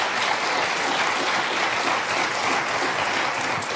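Steady, dense applause from a studio audience on the Dr. Phil talk show, loud and continuous throughout with no pauses or voices.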